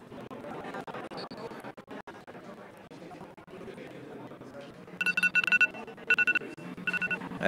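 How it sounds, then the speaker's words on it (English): A timer alarm beeps in bursts of rapid high electronic tones in a church setting, following a stretch of room chatter and people talking. "That's your timer."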